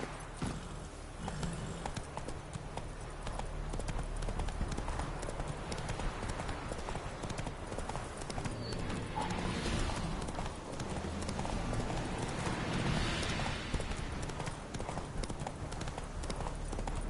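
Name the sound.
horse hooves clip-clopping, from video game The Witcher 3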